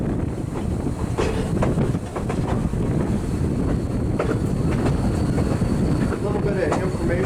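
Riding aboard a train pulled by a GP9 diesel locomotive in Maine: a continuous rumbling clatter of railcars on track with wind buffeting the microphone and irregular knocks and rattles throughout.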